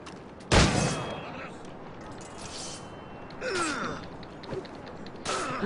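A single sharp, loud gunshot cracks out near the start in Assassin's Creed 4: Black Flag, then fades into steady ambient game noise with softer bursts and voice-like gasps later on.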